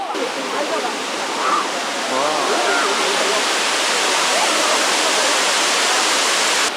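Shifen Waterfall in Taiwan roars with a constant, loud rush of falling water close by, while people talk over the din.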